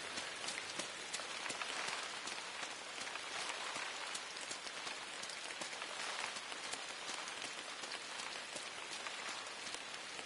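Rain in the video game Inside falls as a steady, dense patter with crisp individual drops, constant and fairly soft throughout, with no voices.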